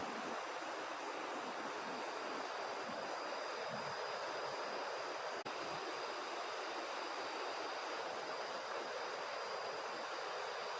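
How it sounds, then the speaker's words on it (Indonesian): Steady broadband roar of a river rushing somewhere below in a forest, continuous and even, with no voices over it. "Terdengar nggak guys gemuruhnya air sungai di bawah sana?"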